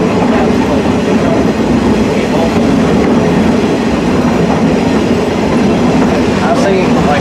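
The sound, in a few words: train on Cass Scenic Railroad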